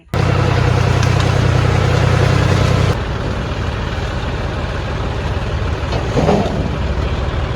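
A tractor engine runs steadily close by, a loud, continuous low rumble that drops slightly in level partway through, with no talking.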